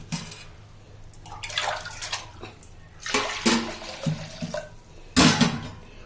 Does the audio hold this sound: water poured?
yes